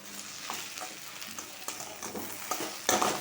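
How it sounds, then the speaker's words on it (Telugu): Okra fries in a pan with sesame powder and spices, a soft steady sizzle with repeated scraping stirs of a spatula, close and fairly quiet, with no talk. "ఇది మూత పెట్టాం కదా, అందుకు ముద్ద అవ్వదు, ఇలా విడివిడిగా వేగుతుంది"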